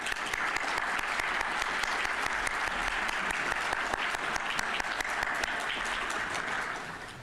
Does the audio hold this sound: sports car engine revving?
no